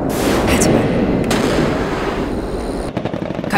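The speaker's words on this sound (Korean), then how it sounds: "갑자기 폭발음이 들려오고" Artillery explosions from a nearby military firing range beside farmland rumble as a continuous heavy booming roar, loud and dense, with sharper cracking bursts toward the end and no talk.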